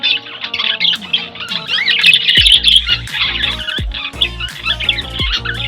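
Pet birds kept in a cage in cold weather chirp and squawk loudly and close by, a busy overlapping run of sharp calls and tweets with no talking.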